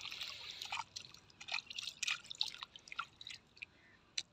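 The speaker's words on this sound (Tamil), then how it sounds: "அது கொஞ்சம் அலசுங்க, இதை மட்டும் அலசுங்கண்ணே" Freshly dug sweet potatoes rinsed in water outdoors near a cotton field, with irregular close drips and splashes, faint and intermittent, no talk.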